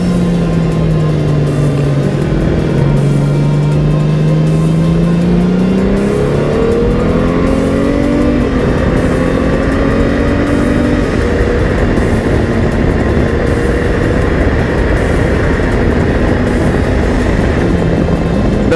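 A 2022 Honda Gold Wing 1800 DCT motorcycle accelerates hard, its engine note climbing in pitch through several automatic gear changes, then settling into a loud, steady wind-rushed cruise, with no talking.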